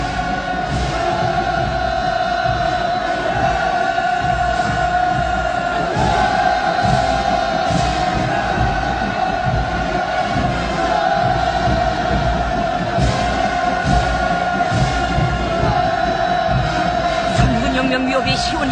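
A huge crowd fills a parade square at a North Korean military parade marking Kim Il Sung's 100th birthday, roaring hurrah cheers in a continuous, loud, dense wall of sound, with talk over it throughout.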